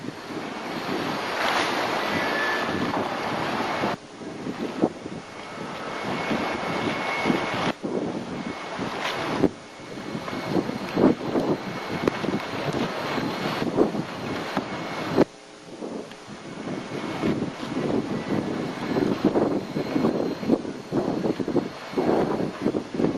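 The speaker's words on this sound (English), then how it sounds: "Boy, this wind is terrible. It's blowing me all over the place." Strong wind buffets the microphone on a campground beach, a loud continuous roar with surging gusts and rumble, while surf washes in the background and no one speaks.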